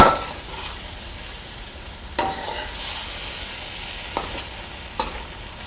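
Beef and broccoli stirred in a hot pan with sesame oil: a continuous close sizzle punctuated by three sharp spatula scrapes spaced a second or two apart, with no voices.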